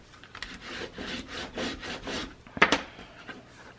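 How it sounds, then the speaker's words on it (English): A scored paper fold is burnished flat with a tool, giving a series of soft, close rubbing strokes and two sharper scraping bursts near the end, quiet and without talk. "We're going to go ahead and burnish that down."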